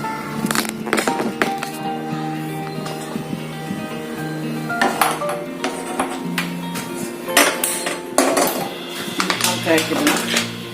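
A metal pot is set down on a stove to heat milk, giving a series of close clanks, knocks and clinks, some loud and some lighter, spread irregularly across the stretch.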